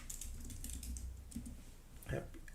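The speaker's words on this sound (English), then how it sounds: "I was typing in a wrong place." Quiet computer keyboard typing comes as a run of light, uneven clicks and taps, faint and close, with a few sharper keystrokes near the end.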